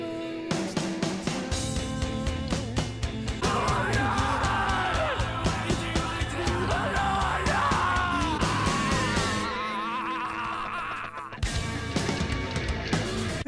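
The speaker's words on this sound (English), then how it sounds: "All of those like screaming kind of guttural background vocals going on" Guttural screamed backing vocals yell through a heavy metal song, layered over pounding drums and distorted guitars with a brief drop near the end.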